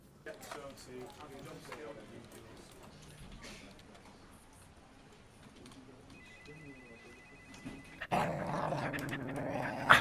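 An office dog growls in low, rumbling bursts amid quiet indoor room sound, a voice speaking over parts of it, before a sudden louder burst of noise near the end.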